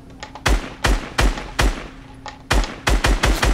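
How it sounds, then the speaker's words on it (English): Gunfire in the Fortnite video game: a string of loud, sharp shots in irregular bursts, some spaced apart and others fired in quick succession, with no talk over them. "Sheldon, why are you shooting?"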